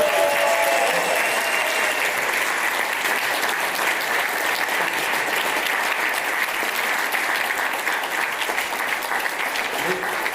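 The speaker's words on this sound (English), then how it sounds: "I think we should give a round of applause for Dawn and the board for all of that." Steady, dense applause from a large audience at an award dinner, holding at an even level for the full ten seconds with no pause.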